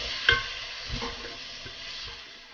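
Chopped tomatoes go into a pan of frying mussels and onions, giving a quiet continuous sizzle with a metallic clink and several soft stirring scrapes.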